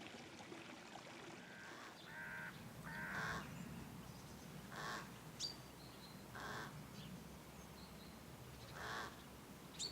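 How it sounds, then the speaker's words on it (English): Carrion crow calling in a cold winter landscape: several hoarse caws spaced a few seconds apart, moderately distant, over faint running water and soft ambient noise. "like this carrion crow."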